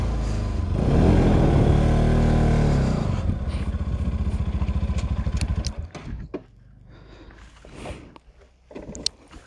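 A broken-down motorcycle on a roadside along the Sagarmatha Highway roars loudly close by for about six seconds, then cuts out, leaving quieter clatters and knocks.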